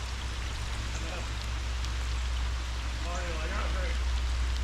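Steady rain hisses down outdoors at a fishing spot, a constant broadband wash with a low hum beneath and faint bird chirps near the end.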